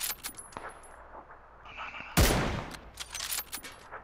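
Gunfire in the video game PUBG, with a sharp loud burst in the middle and scattered lighter cracks and rattles on either side, with no voices.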